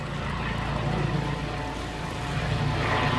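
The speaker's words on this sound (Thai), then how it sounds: "เฮลิคอปเตอร์" A helicopter passes overhead near a clear natural river, producing a loud continuous low rumble with steady rotor throb filling the whole short stretch.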